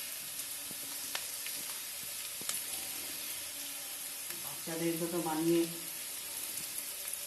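Cabbage and beetroot frying in a pan make a quiet, continuous sizzle under a woman's speech, with a brief louder hiss partway through.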